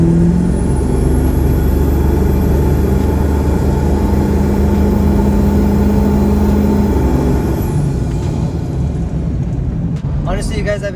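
A 2001 Ford 7.3 Powerstroke diesel truck fitted with a KC300x turbo drones loudly and steadily while being driven, with a faint rising turbo whistle, then the engine note falls away near the end.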